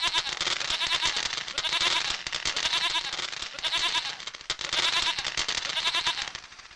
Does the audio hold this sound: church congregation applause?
no